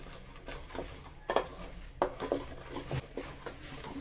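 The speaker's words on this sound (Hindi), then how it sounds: "बेसन को हमें तब तक भूनना है कि एक अच्छी सी खुशबू आने लगे" Gram flour dry-roasting in a pan over low-to-medium heat with a pinch of asafoetida and curry leaves, for Sindhi kadhi; a spoon scrapes and clinks against the pan in scattered strokes over a soft background hiss.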